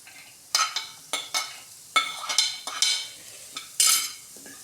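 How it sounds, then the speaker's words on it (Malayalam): Chopped carrot goes into vegetables frying with garam masala for a bread veg roll, followed by several close spoon scrapes and stirring strokes against the pan over a light sizzle. "അതിലേക്ക് നമുക്ക് മുറിച്ച് വെച്ച ക്യാരറ്റ് ആഡ് ചെയ്യാം."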